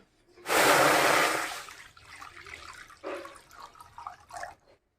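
Water is poured into a cooking pot for red lentil (masoor) dal: a loud gushing splash for about a second, followed by softer trickles, drips and small splashes as the pouring tapers off.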